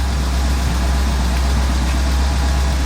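A 1984 GMC truck's engine runs steadily at idle or low speed, a constant deep rumble with heavy low vibration and no voices over it.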